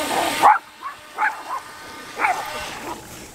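A few sharp dog barks spaced apart at a moderate distance, over a faint background hum.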